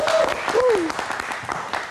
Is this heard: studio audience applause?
yes